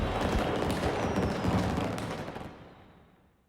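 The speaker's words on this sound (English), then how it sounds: "Fireworks." A Fireworks goal explosion in Rocket League bursts into a dense, loud crackle of popping blasts and rumbling booms that holds steady for a couple of seconds, then fades away smoothly.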